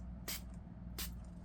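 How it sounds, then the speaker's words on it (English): A hand spray bottle spritzes dye onto fibers in two short, sharp hissing bursts about three quarters of a second apart, close and clear over a low background hum. "Now let's just spray a little bit of this on there."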